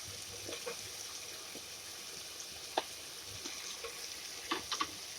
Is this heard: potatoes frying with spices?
yes